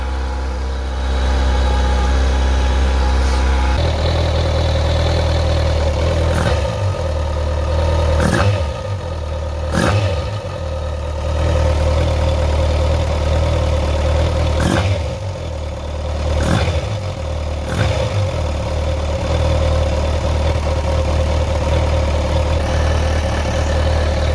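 A 2019 Kawasaki Versys 1000 SE LT+ motorcycle engine idles steadily while it warms up, a loud, even mechanical drone close by, with a few sharp clicks and taps over it and no speech.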